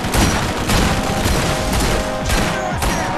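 A rocket weapon fires in the video game Borderlands amid a dense, loud barrage of explosive booms and gunfire-like blasts that run continuously through the clip with no talking.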